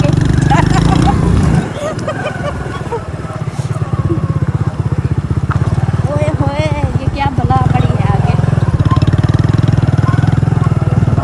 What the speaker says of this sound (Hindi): अब ये रेत में मोटरसाइकिल ऐसे ऐसे ऐसे करेगा, ऐसा लगता है जैसे आप गिरने वाले हैं।